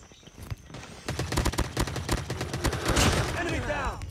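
Rapid bursts of gunfire from a Call of Duty Mobile match on a small map, close and loud, volleys of sharp shots stacking over one another with a few scattered single cracks, under a faint trace of talk.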